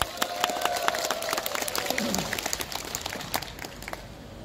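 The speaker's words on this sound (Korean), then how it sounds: "박수와 환호로 모시겠습니다." Applause from an assembled crowd at an outdoor Buddha's Birthday lantern-lighting ceremony in Eunpyeong, a busy patter of many hands with a brief tonal hum early on, sustained at moderate level throughout.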